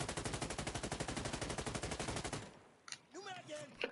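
AKS-74U rifle in the game Insurgency Sandstorm fires a long, rapid full-auto burst of loud, evenly spaced shots. A brief mechanical clatter and a voice follow.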